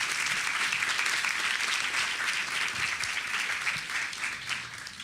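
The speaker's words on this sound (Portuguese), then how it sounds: "Por favor, uma salva de palmas para ela, que é Deise Ventura." Steady audience applause for a speaker on a discussion panel, a dense, even wash of clapping from a moderately sized crowd throughout.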